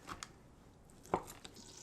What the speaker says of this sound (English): I will go ahead and give my turkey a rough chop.